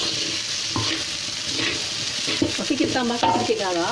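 Chili fried rice (nasi goreng cili api) being stirred in a pan, with steady sizzling and scraping stir strokes throughout while a person talks briefly near the end.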